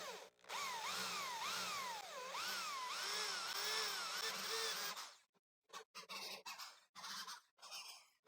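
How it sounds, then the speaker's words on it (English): A handheld power drill bores holes in old wood, its motor whining in rising and falling squeals for several seconds before stopping, followed by short bursts of drilling and pauses, close and loud with no talk. "Ideally, I would use a drill press, but since I don't have one, I will use the hand drill."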